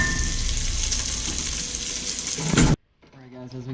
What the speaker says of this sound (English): now the bacon is starting to get nice and hot